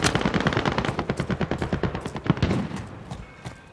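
Rapid automatic gunfire in Call of Duty Warzone, a loud sustained burst of closely spaced shots that tapers into a few scattered single cracks near the end.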